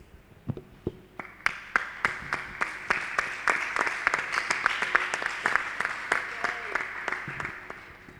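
A children's church congregation claps and cheers over exam success, a roomful of steady rhythmic clapping that swells in the middle and eases off toward the end, with a voice heard among it.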